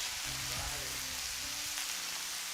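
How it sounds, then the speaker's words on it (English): Cabbage fries in a pan with red onion and turkey kielbasa, giving a steady, soft hiss and crackle throughout, with a few low clatters early on and no talking. "I'm frying this cabbage."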